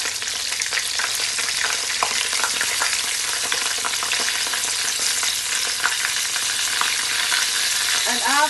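Garlic and hot pepper fry in a generous pool of hot oil for a Jamaican-style curry chicken, a close, steady crackling sizzle with faint stirring scrapes and small pops running throughout, no one speaking.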